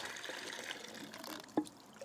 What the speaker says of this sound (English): I'm going to tilt some of the water out